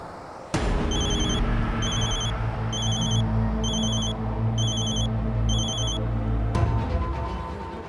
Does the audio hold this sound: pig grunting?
no